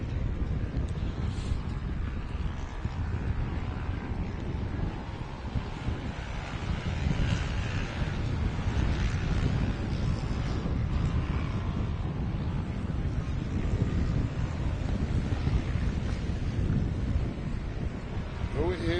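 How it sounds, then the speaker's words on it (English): Strong, gusty wind at a dirt racetrack in Chandler, Arizona buffets the microphone, giving a loud, continuous rumbling roar with fluctuating surges throughout, and talk is faintly present underneath. "It is quite blustery here today, but keeps the dust clear of the track"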